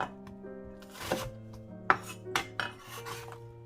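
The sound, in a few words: dicing half an onion into cubes with a knife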